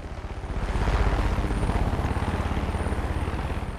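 Helicopter in Far Cry 5 with a steady, loud rotor chop and engine drone that swells slightly and holds throughout, close and continuous with no talk over it.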